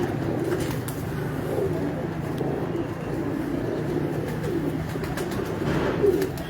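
Around a hundred pigeons in a loft coo in a soft, continuous low murmur, with faint background noise and a brief voice.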